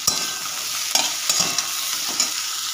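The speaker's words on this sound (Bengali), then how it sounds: "আদাটা 1 মিনিট মতো কষে নেব।" Ginger with turmeric and salt sautés in a pan, a steady close sizzle broken by several sharp scrapes and clinks of a spatula stirring, with no one speaking.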